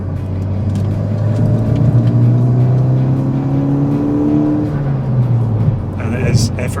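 A 261 bhp Mk2 Seat Leon Cupra R accelerates hard after a downshift, its engine note rising steadily and loudly before easing off, with a driver talking over it.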